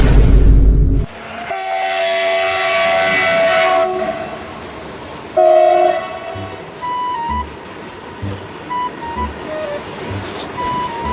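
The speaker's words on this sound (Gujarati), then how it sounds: "આવડી મોટી ટ્રેન બનાવી છે, એ બી સીએનજી વાળી" A large train rolls past close by, its loud rumble and clatter broken by long tonal horn blasts and whistle-like toots that fade as it moves on.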